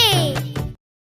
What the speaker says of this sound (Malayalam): പാലു മൂന്തി മ്യാവ് മ്യാവ് കരയണതെന്തേ കുറുങ്ങി പൂച്ചേ